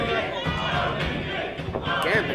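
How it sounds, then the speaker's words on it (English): A wrestling crowd at an AAW pro wrestling event cheering and chanting in a loud, continuous roar, with a commentator-like voice mixed in over the noise. "Again, the crowd unrelenting."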